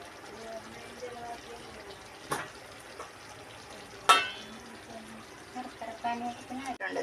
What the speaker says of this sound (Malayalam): ശർക്കരപ്പാനി നമ്മൾ പാനിയാക്കി വെച്ചിരുന്നത് തണുത്തിട്ടുണ്ട്, അത് ഒഴിക്കുകയാണ്